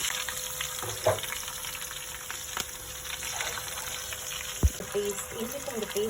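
Fenugreek seeds, curry leaves and onion fry in hot oil for a Sri Lankan fish curry, giving a steady nearby sizzle with a few clinks and knocks of a utensil and a faint voice now and then.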